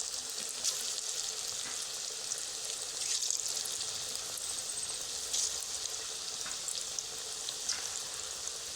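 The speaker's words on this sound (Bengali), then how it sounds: "এগুলোই লাল লাল করে ভেজে নেব" Papaya pakoras deep frying in oil in a kadai give a steady, close, bright sizzle with small crackles and pops throughout, no voices.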